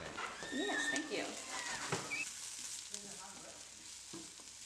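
Vegetables and grated coconut roast and sizzle in a hot pan, a steady close frying crackle with occasional stirring scrapes, while people talk over it and a bird calls faintly in the background.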